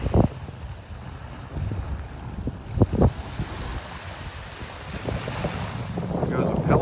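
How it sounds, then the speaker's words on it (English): Strong wind buffets the microphone on a beach in North Naples, Florida, a steady rushing roar with surf washing underneath and a few gusty bumps. "Get out of this wind."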